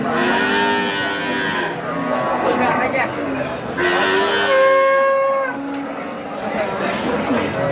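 A large-bodied dairy cow at a busy wholesale cattle market moos several times, long and loud, over steady crowd chatter and people talking nearby.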